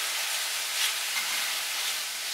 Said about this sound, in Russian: И еще пару минут прожариваем.